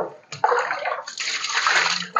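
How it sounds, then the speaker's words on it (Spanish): Chayotes (güisquiles) from Cobán are washed by hand in water, producing steady close splashing and sloshing that runs almost without a break. "lavar nuestros whiskiles, nuestro chimá"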